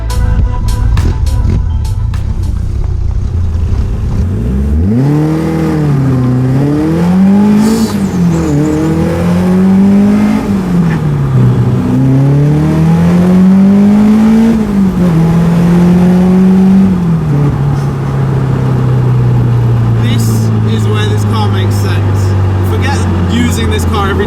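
Caterham 310R sports car pulling away and accelerating hard on open roads, its engine rising and falling through several gear changes, loud and close, then settling into a steady cruise.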